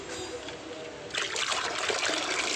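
Water rushing and splashing into a boat in a video game, a quiet trickle at first that turns into a louder, steady gushing flow partway through.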